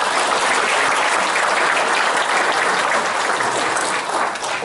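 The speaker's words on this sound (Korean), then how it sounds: "격려의 박수 한번 보내주시고" Dense, sustained audience applause fills a business leaders' breakfast gathering at a chamber of commerce, a loud, even roar of many hands clapping at once that holds steady before easing slightly at the end.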